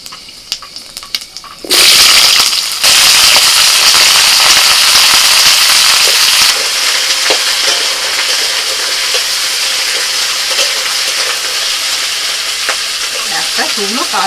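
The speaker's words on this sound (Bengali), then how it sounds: "কড়াইতে তেল দিয়ে দিয়েছি, তেলের মধ্যে ফোড়নে দিচ্ছি 5 ফোড়ন" Panch phoron tempering spices dropped into hot oil in a kadai over a wood fire burst into a loud, sudden crackling sizzle that holds steady and close, easing slightly after a few seconds.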